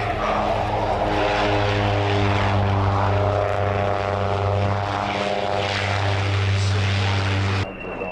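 Propeller planes of a two-aircraft display team fly at an airshow, a loud steady droning engine roar with strong harmonic hum that holds for about seven seconds before cutting off abruptly.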